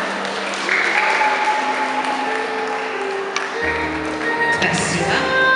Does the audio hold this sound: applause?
yes